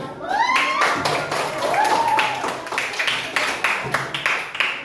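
A class of pupils claps their hands together in a quick run of crisp claps, with children's voices rising and calling out between the bursts.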